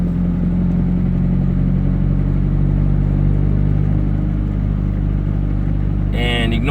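A Mazda Miata MX5 engine pulls smoothly in third gear from low revs, a steady loud drone with a rising tone, and a brief clatter near the end.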